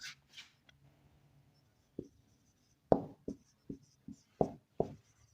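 Pen or chalk writing out a math exercise answer on sets in a classroom lesson: a few scratchy strokes, then a run of short, crisp tapping marks, fairly close, with no talk.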